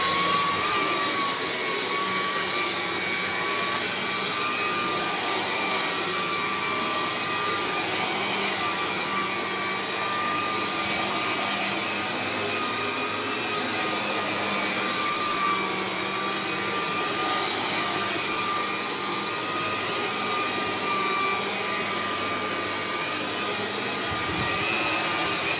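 An Electrolux Discover 3 upright vacuum cleaner runs continuously with a loud, steady motor whine and airy roar, close by and unbroken.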